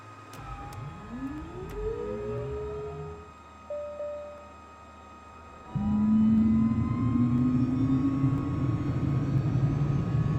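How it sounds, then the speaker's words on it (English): A Cirrus Vision Jet's engine spooling up in MSFS 2024, starting as a rising whine and low rumble that thins briefly, then swells abruptly into a loud, steady jet roar that keeps building. "you're gonna press this button here to start the engine"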